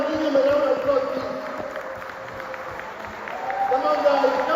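An audience breaks into steady applause and a light murmur for a speaker at an event, the clapping continuous and fairly distant, rising again toward the end.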